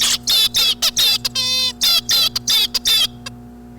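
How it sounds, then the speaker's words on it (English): A juvenile songbird pecks a key and triggers tutor song playback: a run of bright, rapid harmonic syllables in repeated bursts, a sustained whistled note in the middle, then silence with a faint click near the end. "That was the sound of him hitting the key and then hearing the tutor playback."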